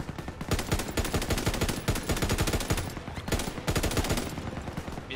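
MG42 machine guns hammer out sustained automatic bursts in the WW2 shooter Call of Duty WW2, loud and rapid with a brief gap midway before firing resumes.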